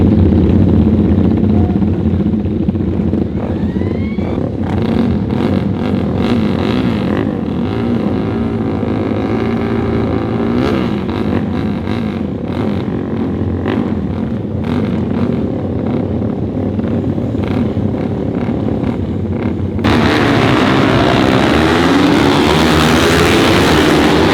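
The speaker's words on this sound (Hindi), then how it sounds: "सारी बाइक्स तो अभी सारी स्टार्ट हो चुकी हैं। ग्रॉलिंग की आवाज़ अच्छी खासी आने लग गई है।" Several racing motorcycle engines roar together continuously at a bike race, growling and revving steadily before the sound jumps louder and harsher near the end.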